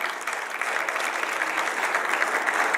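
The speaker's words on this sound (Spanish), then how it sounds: "para quien pido un fuerte aplauso" Steady audience applause at an educational round-table event honoring a teacher, a moderately loud, even wash of many hands clapping throughout with no voices over it.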